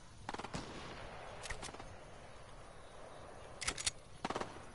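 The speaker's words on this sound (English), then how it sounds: "will you stop fucking shooting?" Gunfire in the battle royale game Fortnite comes in several rapid bursts of sharp, crackling shots, some clustered and some spaced apart, at moderate distance over quiet game ambience.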